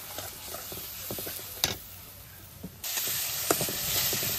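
Spice paste of chili powder, coriander powder and salt frying in a pan, a steady close sizzle and hiss with light scraping taps of stirring that grows louder toward the end.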